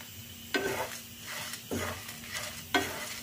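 Coconut and chilies roasting in a pan, stirred with three distinct scraping strokes spaced about a second apart over a steady low sizzle, close and fairly quiet with no talk.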